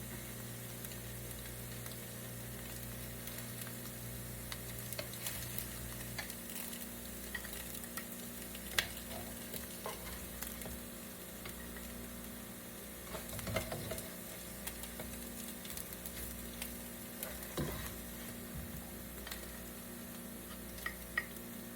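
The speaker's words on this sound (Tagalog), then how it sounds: "Ganito lang kadali magluto ng luncheon meat." Luncheon meat fries in a pan with no oil, a steady faint sizzle running throughout with occasional scrapes and stirring clicks, no voices present.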